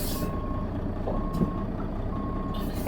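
Peterbilt truck in American Truck Simulator backing up to a trailer, three evenly spaced electronic reversing beeps over a low steady engine rumble, with no talk.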